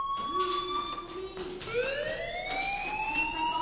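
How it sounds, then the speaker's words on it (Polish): Fire alarm sounding in the video game Life is Strange, a loud continuous electronic tone that holds one pitch, then jumps and slides upward, carrying steadily through the whole stretch with no talking. "Hey, do you hear that fire alarm? That means you should be outside."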